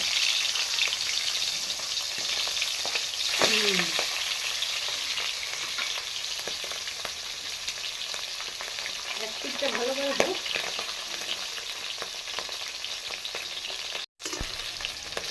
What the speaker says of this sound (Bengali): দেখুন মাছটা ভাজা হয়ে গেছে